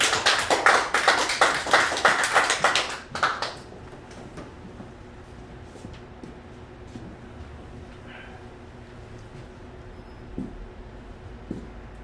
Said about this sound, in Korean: 박재천 목사님을 큰 박수로 맞으시면 감사하겠습니다.